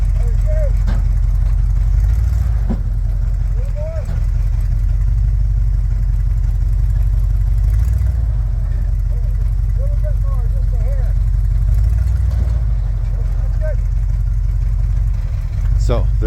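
A truck engine idles with a low, steady rumble while a trailer carrying a vintage 1956 Bombardier wide-gauge machine is loaded, someone talking throughout over the constant drone, with a few light clanks.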